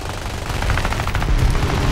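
Aircraft machine guns firing in War Thunder air realistic combat, a loud continuous rapid rattle of shots that fills the whole stretch without pause.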